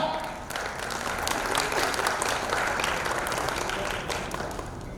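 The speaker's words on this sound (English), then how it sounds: "Like I just made you clap." Applause from an audience at a talk on influencers and brand storytelling, a dense steady wash of many hands clapping that swells and holds for several seconds before tapering slightly.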